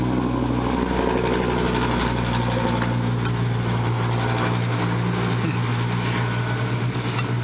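Loud V8 car engines near a brick-laying job on an east planter, heard as a steady, heavy engine rumble that continues without a break and with no talking.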